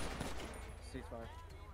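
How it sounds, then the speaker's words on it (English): Gunfire in a police roleplay video game, a burst of shots heard over a noisy, busy game mix with bits of voice chatter. "They're still shooting."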